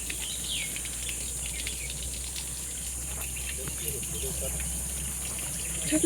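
Water trickles downhill in a steady, low, continuous flow across a hillside in the Konkan countryside, with faint bird chirps scattered over it and no clear voices.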